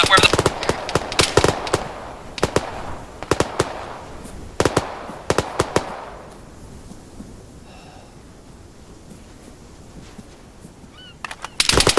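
Gunfire aimed at a house in a Winter War video game, with rapid clustered bursts of shots, quite loud and near, giving way to a quieter stretch before a few more shots.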